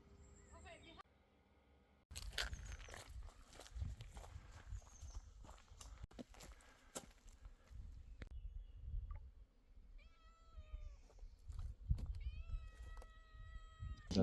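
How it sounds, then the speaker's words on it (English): Cats meow a few times near a shelter along an old Roman road on a hike in Sicily, the calls rising over footsteps and scuffing on the path, with people talking nearby. "We saw the kitties here."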